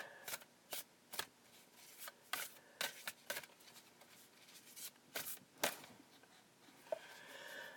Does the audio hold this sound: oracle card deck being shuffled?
yes